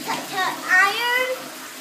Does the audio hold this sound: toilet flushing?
yes